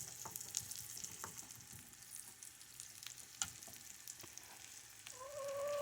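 Onions cooking in butter in a pan give a faint, quiet sizzle broken by scattered clicks and scrapes of stirring, with a slight rise in noise near the end.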